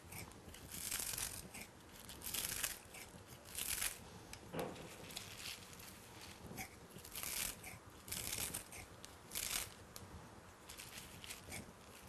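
Fresh chives being cut into tiny pieces for a goat cheese tartlet, giving soft, quiet, repeated crisp snips and crunches in irregular bursts, close by and alone.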